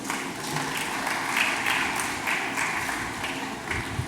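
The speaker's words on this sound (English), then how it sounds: "Let's welcome him with a round of applause, please." Soft, somewhat distant applause rises from the crowd at a graduation ceremony, a steady patter of many hands under a faint hall hum.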